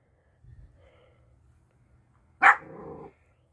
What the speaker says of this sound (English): I'm glad that dog doesn't just bark for no reason. What's your reasoning for barking, old dog?